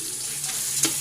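Meat for pancit sizzles steadily in a hot pan, a close, continuous frying hiss with a brief louder crackle near the end and no talk.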